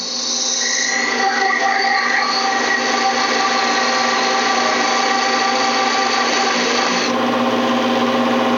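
A skew chisel cuts a tenon on a furniture part spun on a wood lathe: a steady, loud whirring hum of the spinning work with a continuous scraping cut over it, with no gaps and no talk.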